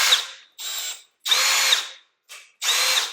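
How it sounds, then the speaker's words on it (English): A cordless drill bores into wall trim in short high-pitched whirring bursts, five separate runs with brief silent pauses between, close and loud with no voices. "So I'm just going to use our cordless drill"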